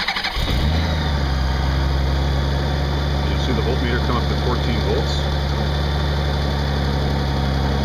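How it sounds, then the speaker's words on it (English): A 2013 Honda F6B motorcycle engine cranks and catches, then settles into a steady, loud idle with a low rhythmic rumble while someone talks over it. "I'm going to start the engine."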